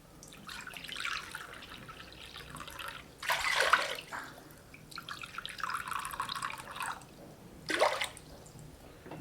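Water poured from a cup into a cooking pot, splashing and trickling in bursts, with a couple of louder gushes and drips between, nearby and without talk.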